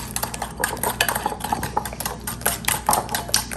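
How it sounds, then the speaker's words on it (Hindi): Eggs and sugar being beaten by hand in a bowl, rapid rhythmic clinking and scraping of a utensil against the bowl sides, close and loud with no talk. "इसको करेंगे अच्छे से बीट। ताकि हमारे एग और शुगर जो है वो अच्छे से मिक्स हो जाए।"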